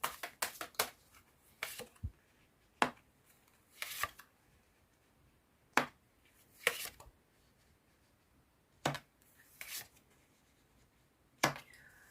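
Oracle message cards are shuffled and drawn in a quiet room, sharp papery riffles and snaps coming in irregular bursts separated by near-silent pauses.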